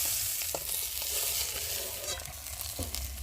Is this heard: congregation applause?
no